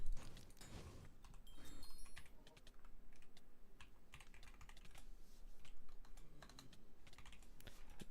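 Rapid typing on a computer keyboard, irregular bursts of clicky keystrokes close by, with a brief electronic chime near the start.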